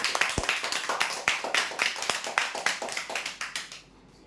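Steady rhythmic hand clapping for a prize-draw winner, fairly close and even in tempo, goes on for several seconds and then stops abruptly.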